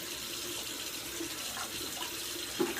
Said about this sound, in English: I just go and run this hot water